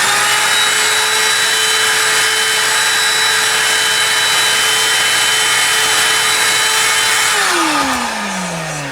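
A power saw cuts wood in a hot workshop during a scratch build, a loud, close, steady whine with a bright tonal edge that slows and drops in pitch as the blade winds down near the end.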